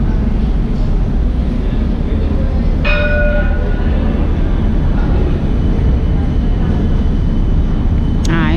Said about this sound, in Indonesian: sekarang kereta api pas berhenti di depan kita